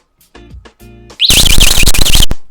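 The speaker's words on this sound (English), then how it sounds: "I also added this buzzer to go off at the same time as the taser" A loud electronic buzzer rigged to a taser on a basketball hoop blares for about a second with a warbling tone, following a few short electronic beeps.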